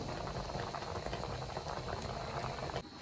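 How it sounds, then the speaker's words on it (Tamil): Fish, squid and prawns boiling in a pot in a village kitchen, a dense, steady bubbling and rolling simmer heard up close and continuously. "நாங்கள் வாங்கி கொண்டு வந்த மீன், கணவாய், இறால் எல்லாம் வந்து நாங்கள் ஒரு உண்டா போட்டு அவிச்சு கொண்டிருக்கிறோம்"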